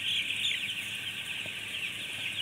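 Broiler chickens in a coop raised on herbal feed, a dense steady flock chorus of clucking and calling, fairly close and continuous, with no voices.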